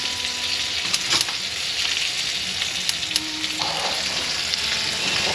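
Steady sizzling and spitting of sausages frying in a pan, close and continuous, with occasional clicks and scrapes from utensils.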